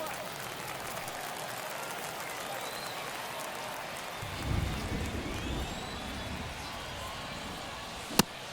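Stadium crowd noise from a baseball game in MLB The Show 23, a steady broad roar with a brief swell of cheering midway and a sharp crack near the end, with game commentary running underneath.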